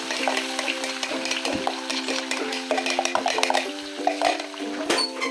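Chili, onion and garlic sautéing in hot butter and oil for chicken pastil, a bright continuous sizzle with busy stirring scrapes and light pan clatter, close up with no voices.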